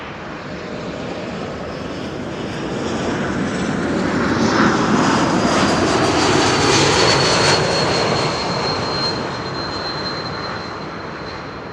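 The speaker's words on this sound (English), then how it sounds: "Air France flight 1444 is up next, arriving from Paris. That's a Bombardier C-Series 300, aka A220." An Air France Bombardier C-Series 300 (A220) jet arrives at Schiphol. Its engine roar swells from moderate to loud as it passes close, carrying a thin whine that bends downward, then fades slightly toward the end.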